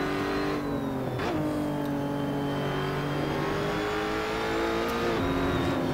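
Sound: Lotus Evora engine accelerating in racing video game Assetto Corsa

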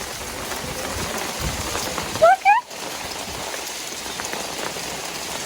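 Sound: hail falling

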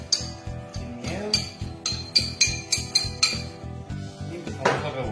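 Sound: stirring salsa with lime and bouillon

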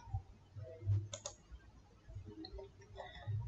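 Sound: computer mouse clicking in MS Word

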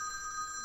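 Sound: telephone ringing

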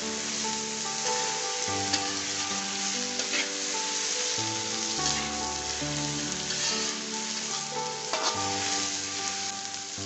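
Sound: sautéing potatoes and masala in a pan

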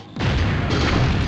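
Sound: explosion in a video game

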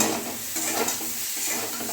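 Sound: frying pointed gourd in a thin wok

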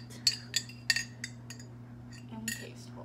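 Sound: stirring coffee with creamer in a mug

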